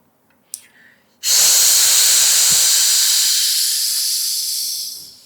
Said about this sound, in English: if you throw out breath from your mouth, making a sound of she